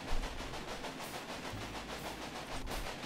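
A train rolling along rails in the game Railway Empire, a steady low rumble with faint rhythmic clatter, fairly quiet and continuous without speech.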